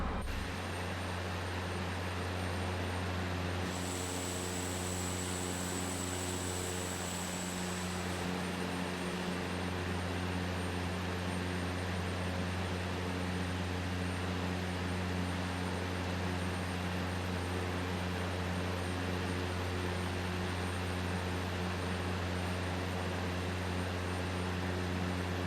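Cessna C208 single-engine propeller plane in Microsoft Flight Simulator, heard from outside during a winter cross-country flight: a steady, unbroken engine drone with a deep humming tone holds throughout, with a thin high whine briefly riding on top early on.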